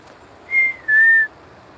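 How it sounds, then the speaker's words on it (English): A bird by a thawing waterside gives two clear, sustained whistled notes in quick succession, the second slightly lower and longer, loud and close against quiet background. "There's a bird whistling."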